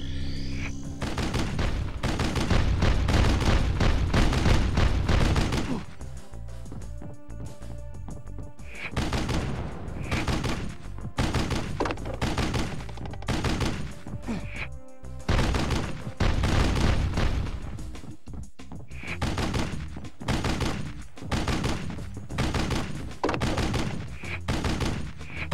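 Continuous dense gunfire and explosions in the video game Army Men: Major Malfunction, loud sustained volleys of rapid shots with booms throughout, layered over game music and noise.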